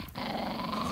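A dog growls in a low, continuous rumble lasting about a second, close and steady, after a brief quieter moment at the start.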